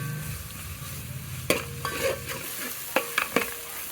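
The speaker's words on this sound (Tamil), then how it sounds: "பச்சை வாசனை போகிற வரைக்கும் அதை இந்த வெங்காயத்தோடு சேர்த்து நல்லா வதக்கணும்." Ginger garlic paste sautéing with onions in a pan for brinji rice gives a soft steady sizzle, broken by a few sharp scrapes and clinks of a spoon stirring against the pan.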